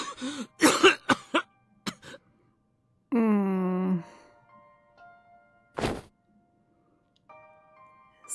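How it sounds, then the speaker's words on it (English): A character in the Hakuoki Edo Blossoms game coughs painfully in several harsh, strained bursts with a gasping breath, close and clear, among sparse gaps of quiet and brief game sounds. "Okito is crouched on the floor, coughing painfully with strained breaths"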